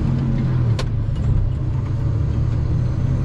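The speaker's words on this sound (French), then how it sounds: "le moteur perd un peu de puissance, il fait un bruit abominable" A car engine losing power drones and rumbles steadily at close range on a Marseille street, loud and strained, with a brief sharp rattle near the start.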